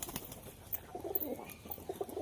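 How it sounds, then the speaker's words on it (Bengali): Several fancy pigeons cooing close by, soft repeated throaty coos in short bursts over a quiet background. "কিছু কিছু হাতেবাজি পায়রা আছে।"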